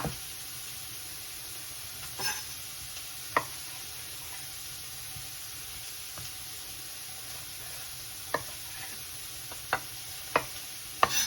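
Boiled potatoes sautéing in a little olive oil, a steady soft sizzle and hiss broken by occasional sharp clicks and scrapes of a utensil in the pan, quiet and without talk.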